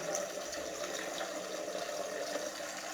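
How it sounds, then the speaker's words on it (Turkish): Water runs steadily out of a domestic central-heating radiator as the air is bled from it, a continuous close, faint splashing trickle with no talking. "Oradaki hava gidene kadar şöyle su akacak."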